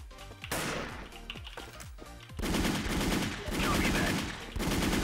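Automatic gunfire in the online shooter Wolfteam: rapid machine-gun bursts, loud and close, with a short pause before a longer sustained stretch of shooting.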